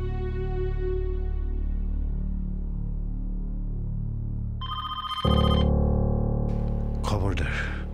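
A telephone rings in a domestic drama scene, repeating its electronic ringtone loud and close. A second, sharper tone pattern cuts in partway through.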